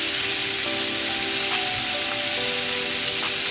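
Shrimp sizzling steadily in a hot pan as they are flipped, a close, continuous crackling hiss with no voices.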